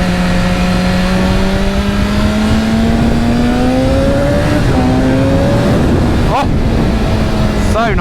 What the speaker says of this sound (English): It's a real loud induction noise coming from the front of the engine.